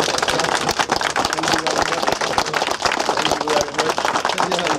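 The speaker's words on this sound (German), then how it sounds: "Und ich denke, das ist ein Applaus." An audience applauds in a dense, continuous wash of clapping that holds steady and fairly loud throughout.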